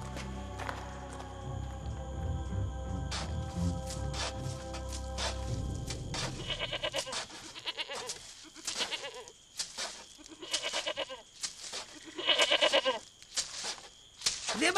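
A goat bleats repeatedly in a dubbed animated cartoon, the calls close and loud, with footsteps and scattered sounds in between. No one speaks.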